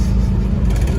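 A 1972 VW Westfalia's engine runs in second gear, a loud, low rumble close to the microphone that holds steady through the moment.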